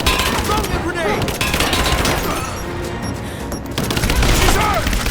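Dense overlapping gunfire during a firefight in Rise of the Tomb Raider, a continuous loud barrage with shouted voices mixed in.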